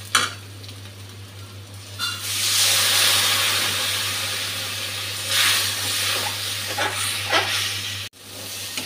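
Spice paste poured into fried onions in a pan for a katla fish dish sizzles with a steady hiss, swelling in bursts and easing off, over a low constant hum.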